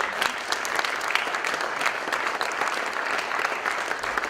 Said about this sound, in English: can we also please give a round of applause to all of our volunteers who made this day happen?